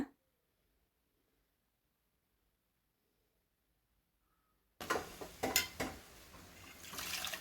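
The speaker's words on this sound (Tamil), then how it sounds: "தண்ணி நம்மளுக்கு எந்த அளவுக்கு தேவையோ அந்தளவுக்கு தண்ணி ஊற்றிக்கலாங்க" Nearly four seconds of silence, then water splashes and pours into a pot of curry, fairly close and moderately loud.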